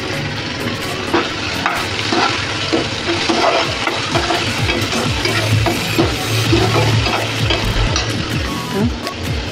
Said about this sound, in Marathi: टोमॅटो परतत आलाय आता आपला